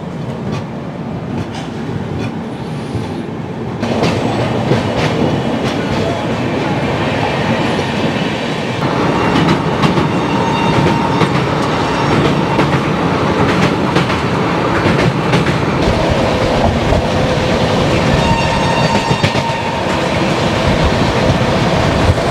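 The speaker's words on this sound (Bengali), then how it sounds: "ট্রেন এখন এসে পৌঁছালো গয়াতে" The Gwalior–Kolkata Superfast Express rolls through Gaya station with a steady, loud rumble of wheels on rails and rhythmic clickety-clack, continuous and close throughout, with faint wheel squeal.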